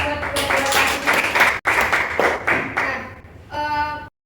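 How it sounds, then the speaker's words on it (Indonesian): Classroom applause during a micro-teaching lesson, a dense patter of many hands clapping for about three seconds, then a brief pause before a voice is heard. "Tepuk tangan dulu buat"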